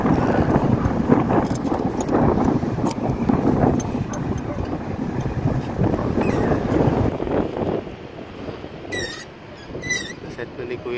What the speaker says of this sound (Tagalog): Malakas na rin ng hangin.